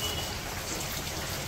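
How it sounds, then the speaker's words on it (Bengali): Steady rain falls on a village, a dense, even patter of drops that stays constant throughout with no voices. "দিনটা নামছে বৃষ্টি খালি মাথায় পানি পড়ে।"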